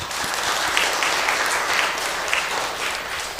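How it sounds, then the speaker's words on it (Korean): A church congregation at a Sunday service applauds together, a dense, sustained round of clapping filling the room from start to finish. "박수로 한번 격려하겠습니다"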